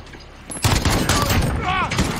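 Burst of heavy gunfire in the Modern Warfare shooter, a dense volley of shots erupting after a brief quiet and continuing loudly, with a voice briefly heard over it.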